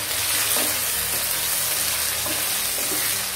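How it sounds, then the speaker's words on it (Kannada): Chopped tomatoes with rock salt frying in oil for uppittu, a steady broadband sizzle filling the whole stretch with a few soft stirring scrapes, close and constant with no talking. "ಚೆನ್ನಾಗಿ ಮಿಕ್ಸ್ ಆಗಿ ಸಾಫ್ಟ್ ಆಗಬೇಕು, ಅಲ್ಲಿವರೆಗೆ ಫ್ರೈ ಮಾಡ್ಕೊಳ್ಳಿ"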